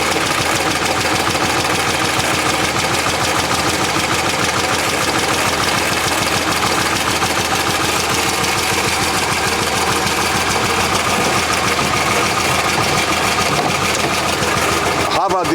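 A 1906 Rover car engine idles smoothly under the bonnet, a steady continuous mechanical patter that runs evenly the whole time at close range.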